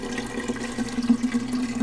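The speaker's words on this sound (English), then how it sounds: "So I strain it." Kombucha is poured through a strainer, giving a steady liquid trickle and splash that holds for the whole stretch at close range without any voices.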